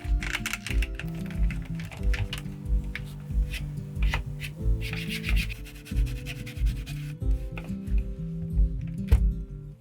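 A microfiber towel rubs and wipes a camcorder viewfinder in a steady back-and-forth rhythm of soft, close scrubbing strokes, with a faint tonal hum underneath and no talking.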